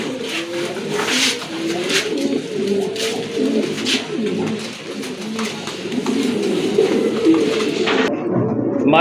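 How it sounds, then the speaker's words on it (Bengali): Pigeons cooing close up at a bird sale, soft repeated coos overlapping through the stretch with faint voices in the background. "আরেক জোড়া কবুতর"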